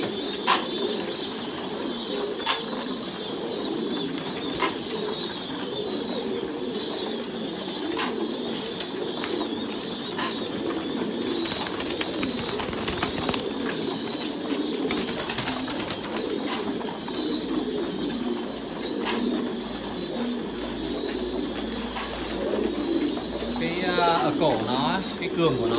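Thai Titan pigeons coo continuously nearby, layered low throaty calls with occasional wing flaps and rustling, while a person talks over them throughout.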